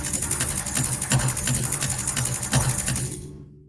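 A Soundiron Rust 4 Jungle Fever preset with heavy chorus and widening makes a dense, rattling metallic drop noise, busy clattering pulses that stay loud and then cut off abruptly near the end.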